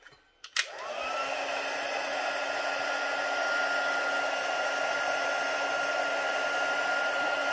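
A heat gun blowing to melt sticky glue on a papercraft box, starting with a click and then a steady, close, continuous airflow hiss with a faint whine, with nothing else heard.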